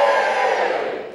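A conference audience at a convention breaks into loud cheering and whooping, a dense crowd roar that fades slightly over about a second.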